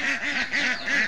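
Several ducks quack in quick, rhythmic succession, loud and close, with a repeating nasal call pattern across the moment and no talk over it.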